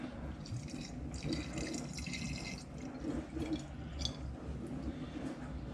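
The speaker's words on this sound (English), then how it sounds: "so it's time to add the vodka" Vodka pours steadily into a bottle holding crushed toffee, sugar and mixed spice, a continuous close trickling gurgle with no talk over it.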